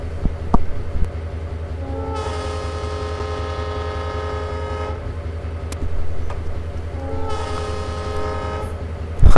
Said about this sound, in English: The air horns on these have always kind of gave me a giggle.